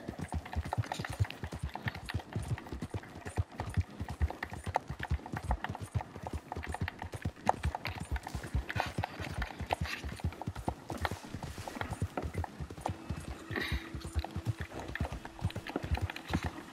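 Horse hooves gallop at a fast, steady rhythm on a dirt track in the video game Red Dead Redemption 2, the dense clip-clop continuing throughout at moderate volume with a faint low hum late on.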